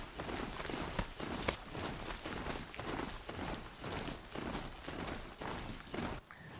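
Hooves of a ridden horse-like mount in the video game Horizon Zero Dawn, a brisk, steady clip-clop of footfalls that runs on evenly for several seconds and then stops abruptly.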